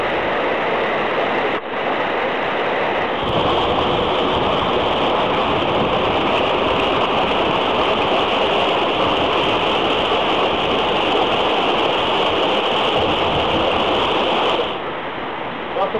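A waterfall gives a loud, constant rushing roar that starts abruptly, holds steady for about ten seconds and then cuts off, with no voices.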